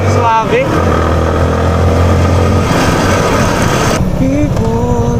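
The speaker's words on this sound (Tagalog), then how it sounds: "Sarap i-drive ng motor ni Idol" A motorcycle is ridden on a road, its engine droning and shifting pitch close by, with someone talking over it.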